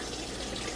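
Tap water pours steadily into a cooking pot being filled for noodles, a continuous close gushing hiss with no pauses and no voices.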